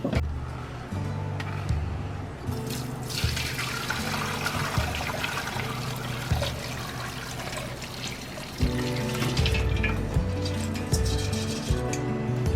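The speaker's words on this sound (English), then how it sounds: "now I'm gonna go ahead drain this soup out" Fish-head soup broth for Lao khao poon being poured and drained, a steady rushing, splashing flow of liquid with trickling and occasional louder gushes, close and continuous throughout.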